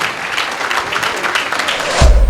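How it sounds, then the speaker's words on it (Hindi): An audience in a hall claps briefly for a farewell lecture, a dense patter of hands that swells into a louder burst near the end. "एक बार जोरदार तालियां बेटा अपने लिए"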